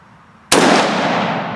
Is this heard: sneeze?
no